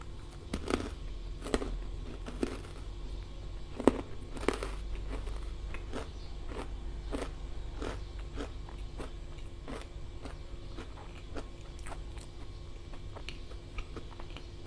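Crisp baked Monthong durian chips bitten and crunched close up, a steady run of sharp crackling bites and chewing over roughly fifteen seconds, loudest near the start.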